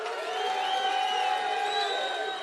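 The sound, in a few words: crowd clapping and cheering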